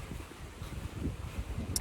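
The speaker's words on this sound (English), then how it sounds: "It's so windy." Steady wind buffeting a microphone outdoors, a low rumbling rush that continues throughout with no voices.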